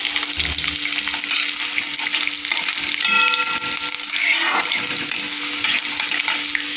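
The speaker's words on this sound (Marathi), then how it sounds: "शेंगदाणे छान आपण तेलामध्ये तळून घेऊ" Peanuts and chillies fry in oil for Nagpuri tarri poha, with a loud, continuous sizzle and occasional stirring clinks throughout.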